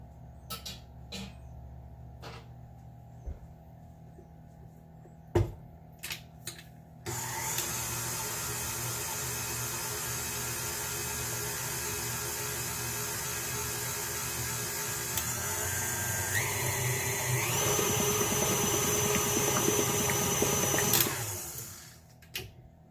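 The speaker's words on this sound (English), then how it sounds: "And now we're going to quickly give this a mix." An electric mixer whirs steadily through lemon blueberry cake batter, starting abruptly after scattered knocks, holding a dense motor drone with a pitch shift partway through, then cutting off near the end.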